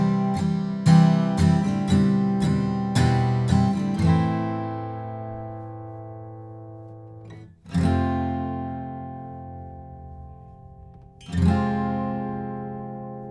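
Acoustic guitar strums the final-chorus chords of a song with no capo, a run of quick strokes and then a long ringing chord, followed by two single strums left to sustain, close and alone.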